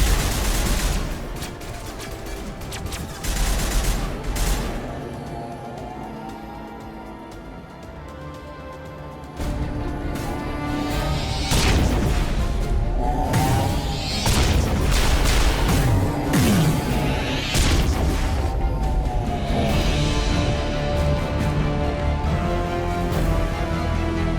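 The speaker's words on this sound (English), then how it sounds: "Suppressing fire." Sustained firefight from the video game Mass Effect: rapid gunfire bursts, heavy booms and explosions layered over a dense musical score, loud and continuous throughout with shifting intensity.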